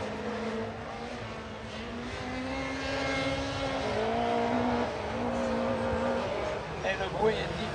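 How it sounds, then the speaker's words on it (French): A rallycross race car runs its engine on the floodlit Dreux circuit at night, a steady droning roar with shifting pitch that swells mid-clip, heard beneath continuous commentary. "Le tour joker pour le pilote de la SAMEP, Max Bachelet."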